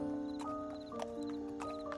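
Horse clopping along with hooves beating in a steady rhythm and a whinny mixed in, heard under a sustained tonal background, likely music, with no talk.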